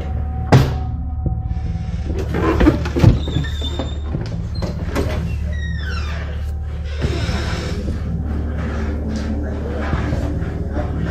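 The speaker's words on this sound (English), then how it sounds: "the doors and even furniture in his house began moving by themselves" Doors sliding and furniture shifting inside a house, with scattered knocks, thumps and scraping creaks of varying loudness, interspersed with some squeaky sounds and a background hum.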